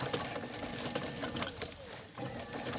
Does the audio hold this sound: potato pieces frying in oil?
no